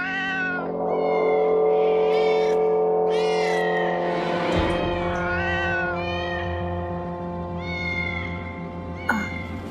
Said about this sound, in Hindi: उस ब्लैक वाली बिल्ली की, जो खिड़की के बाहर है ना, वो बहुत रोती है।